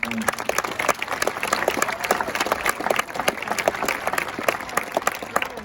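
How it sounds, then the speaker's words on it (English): A crowd at a school graduation ceremony in America applauds a children's performance, many hands clapping in a steady, dense patter with individual claps standing out, close and moderately loud throughout. "So once again, a round of applause for us."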